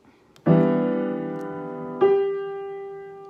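Two piano chords sound one after the other, each struck once and left to ring and fade, clear and close with no talking.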